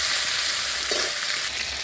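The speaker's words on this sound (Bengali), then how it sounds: "একটু ভেজে নেবো" Steady, dense sizzling of ginger and green chili paste frying in hot oil, close and fairly loud, with a brief soft stir partway through.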